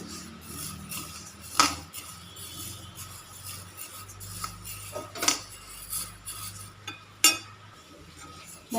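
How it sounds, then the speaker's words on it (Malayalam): Rice dry-roasting in a pan for a Kerala karkidaka unda sweet, stirred continuously with a metal spoon, giving soft scraping with a few sharp clinks against the pan at intervals, fairly quiet and steady. "കൈയെടുക്കാതെ തന്നെ ഒന്ന് വറുത്തേക്കണം"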